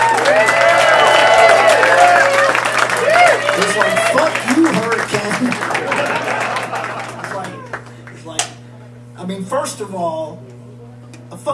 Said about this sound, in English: Give yourselves like a applause, like standing ovation for fucking Asheville, North Carolina